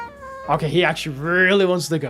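A fluffy, grumpy-looking cat meowing up close, a couple of drawn-out, loud meows with a person speaking just before them.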